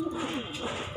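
Wild pigeons coo softly on a rooftop, a brief low warbling call at moderate distance with faint background noise.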